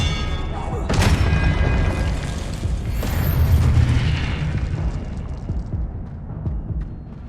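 A Confringo blasting spell from Hogwarts Legacy bursts with a loud booming explosion near the start, followed by a rumbling blast later, over continuous game noise.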